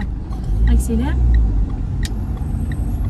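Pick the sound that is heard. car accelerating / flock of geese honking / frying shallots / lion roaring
car accelerating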